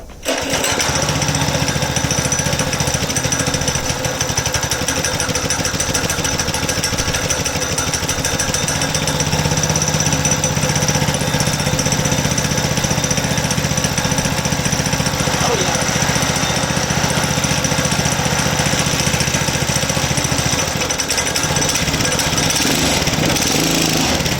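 A go kart's small engine running loud and close after being started on choke, a rough rapid chugging drone that steadies and shifts in tone midway, then cuts out near the end.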